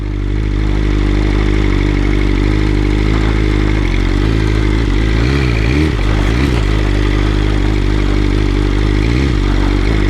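A BMW M 1000 RR superbike ridden through woods, its engine droning loud and close, with repeated rising and falling revs in the middle and a clattering rumble beneath, no talking.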